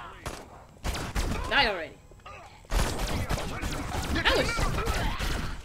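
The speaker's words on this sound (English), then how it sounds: "I'm over here shooting at it." Gunfire in the Destroy All Humans remake video game, dense rapid shooting with crashes and sci-fi zaps, loud and continuous, with a player's voice shouting over it.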